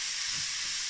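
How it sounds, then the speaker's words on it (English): Meat fries in a hot pan for lasagne, giving a steady, loud, bright sizzle and hiss with no voices. "just so it's easier to fry and the meat can pick up as much of the heat as possible"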